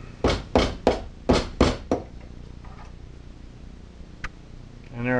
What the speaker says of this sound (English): Take a little rubber mallet.